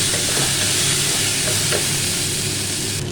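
Chutney fries in an uncovered pan while being stirred, a continuous loud close sizzle with soft scraping movements and no talk.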